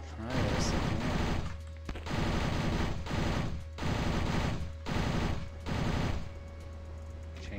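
An angry Gunner enemy in the video game Hideous Destructor fires a machine gun in several sustained loud bursts, each lasting close to a second and broken by short pauses.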